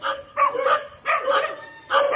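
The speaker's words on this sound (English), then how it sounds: "Here come these damn dogs." Dogs bark on a street in the Philippines, three fairly close barks at a steady interval, each a short harsh yelp with no talk over them.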